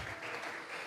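A church congregation gives an offering of claps during a Spanish-language worship service, a brief burst of dense, fairly faint applause.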